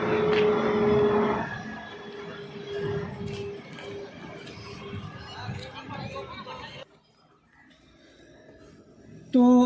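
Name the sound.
airplane flying over near an airport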